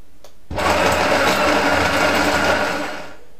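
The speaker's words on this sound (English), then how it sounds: "This is a coffee grinder." An electric coffee grinder grinds coffee beans with a loud, steady whirring buzz. It starts abruptly after a brief pause, runs continuously for about three seconds, then begins to fade.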